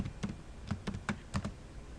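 Keys on a computer keyboard are tapped in a short burst of about seven or eight crisp, close clicks with small gaps between them, entering a value into a spreadsheet.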